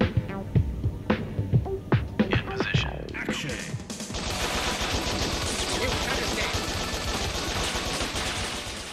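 Rapid, dense gunfire in Bot Vice, a Nintendo Switch shooting game: a few sharp isolated shots at first, then a continuous loud barrage of automatic fire with crashing impacts.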